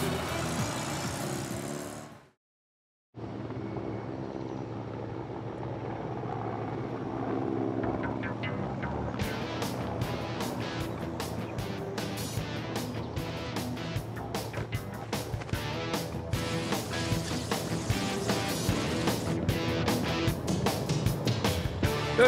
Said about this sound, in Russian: Капитан, вертолет к вылету приготовлен.